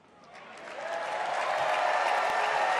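A crowd bursts into applause at a political event, the clapping swelling from faint to a dense, steady roar over a few seconds, with no voices over it.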